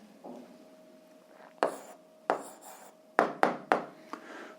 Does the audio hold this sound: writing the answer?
yes